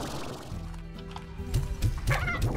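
Rooster clucking in the video game Slime Rancher, a run of short repeated clucks in the second half over a steady game music and ambience bed.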